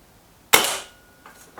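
A single Kral Pro 500 air rifle shot: one sharp, close crack with a brief fading tail in an otherwise quiet setting.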